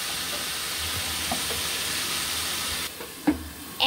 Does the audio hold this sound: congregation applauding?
no